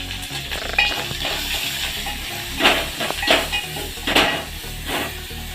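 Hot tempering for Telangana pachipulusu sizzles and crackles loudly nearby, with several sharp bursts of spitting oil over a steady frying hiss and some stirring.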